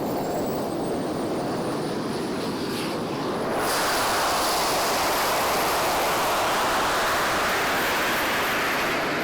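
Three jet engines mounted on a go-kart roar in a loud, continuous rushing blast with a thin high whine running through it, the thrust swelling even louder partway through and holding steady.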